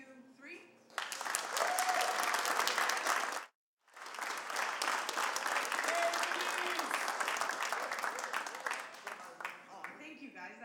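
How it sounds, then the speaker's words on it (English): A studio audience claps hard on a countdown, a dense burst of applause that stops abruptly, then resumes strongly after a brief silence and continues, with voices calling out over it. "So I want to see how strong your clapping is."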